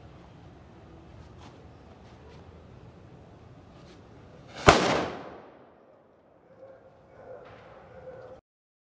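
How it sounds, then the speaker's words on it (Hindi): A desi firecracker bomb, lit directly during Diwali, bursts in one sharp loud bang with a short ringing decay, after quiet fuse-time ambience and followed by faint later sounds. "हम लोग एक लेवल ऊपर जाएंगे और देसी बम में आग लगाएंगे"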